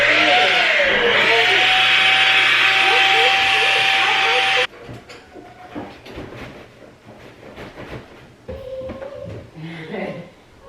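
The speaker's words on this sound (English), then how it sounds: "I'm about to vacuum the couch." A vacuum cleaner runs loudly on a couch with a steady high whine, then cuts off abruptly partway through, leaving quieter handling noises and brief talk.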